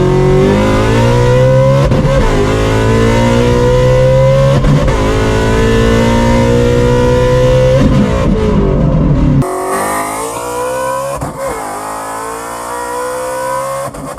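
ESS G3R-supercharged Shelby GT350 pulling hard in second gear, a loud, steady engine and supercharger whine rising in pitch, then a shift around nine seconds drops the tone and the climb begins again, with no talk.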